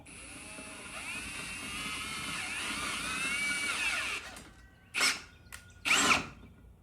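Power drill with a half-inch bit countersinking a hole in a tractor side adapter plate, whining steadily at close range for about four seconds, then two short loud bursts after it stops.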